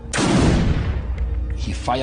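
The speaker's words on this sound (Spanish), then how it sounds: "Disparó una bala al aire y me hizo valiente." A single gunshot fired into the air cracks out loud and close, then rolls off into a long decaying echo.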